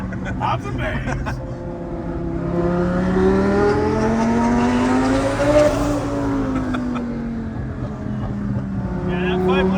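A twin-turbo Lamborghini with a 5-liter V10 revs close and loud, its engine pitch climbing and falling in long sweeps with crackling exhaust pops layered on top.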